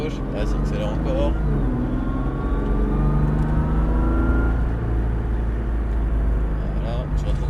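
A car accelerates during a driving lesson, its engine a loud, steady interior drone whose pitch rises gradually, with people talking over it throughout.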